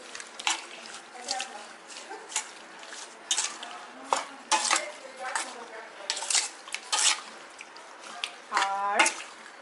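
A spoon stirs garlic paste into a cooking mixture in a pan, scraping and clinking in repeated bursts, with voices talking over it in a home kitchen.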